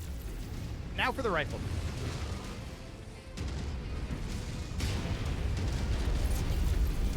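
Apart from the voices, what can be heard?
mech exploding in the video game MechWarrior 5: Mercenaries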